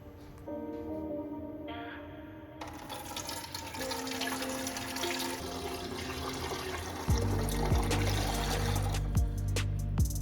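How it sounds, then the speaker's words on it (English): Water pours steadily into the tank of a Gaggia Classic Pro espresso machine, a continuous splashing fill that grows louder and fuller toward the end, with faint clicks and hums from the machine beforehand. "filled the tank with fresh water."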